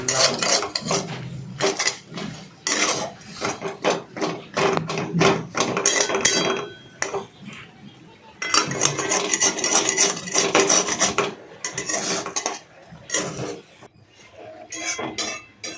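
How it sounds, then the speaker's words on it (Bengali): Potato and pointed gourd pieces stirred with salt in a metal pan, a loud, busy run of scraping and clattering strokes with a brief pause near the middle. "নুন দিয়ে সেটাকে ভালো করে"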